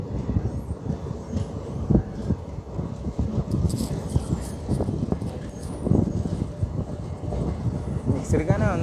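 Thane–Jalandhar express train running between Secunderabad and Siddipet, a steady rumbling rattle of coaches with scattered knocks and a faint squeal near the end, while voices talk over it throughout.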